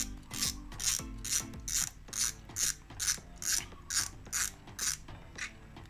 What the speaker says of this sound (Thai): นี่สปูลทวินพาวเวอร์ นะครับใส่บอดี้ของสตาร์ดิกนะครับ ติดขัดไหม ไม่ติดขัดนะครับ